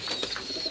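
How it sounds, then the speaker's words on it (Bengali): A native dove at a nest site with eggs and chicks gives a brief, soft coo over a steady high hiss. "এই দেখুন ঘুঘু"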